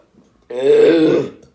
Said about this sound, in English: That's the right belch.